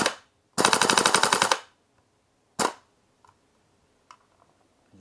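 A Umarex/VFC UMP gas blowback airsoft SMG cycles empty on full auto, a loud rapid burst of about a second followed by a short single clack, with faint mechanical clicks afterward.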